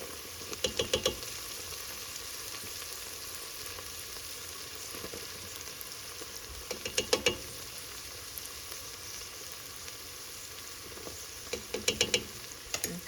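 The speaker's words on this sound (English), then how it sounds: "I'm going to stir this around and try to cook the flour taste out as much as I can" Flour stirred into a sizzling pan, a steady close frying hiss with a few short bursts of scraping and stirring spread across the stretch.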